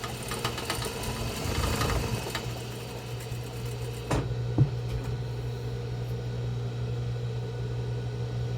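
A sewing machine runs steadily while topstitching a fabric box-style face mask, a close, even mechanical whir with a brief pause and a few small clicks partway through.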